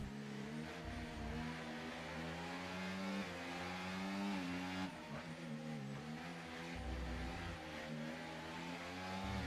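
Formula 1 race cars battling for points at the Netherlands circuit in a racing video game, engines droning and revving in layered tones, shifting pitch as cars accelerate, steady and fairly close throughout.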